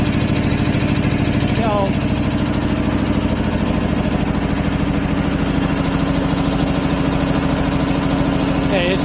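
A 25 horsepower air compressor running on single-phase power, a loud constant droning engine hum with steady vibration filling the whole stretch, someone speaking briefly over it.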